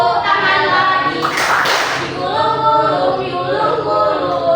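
Hands clap a few times in a short burst in the middle of a children's clapping song, amid sung or spoken voices and background music.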